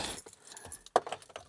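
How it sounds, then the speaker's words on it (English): Keys jangle briefly as they come out of a pocket beside a non-running GMC Yukon, a few light metallic rattles with one sharper clink near the end. "If I get the key out of my pocket, that helps."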